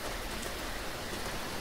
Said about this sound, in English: the sound of the rain goes everywhere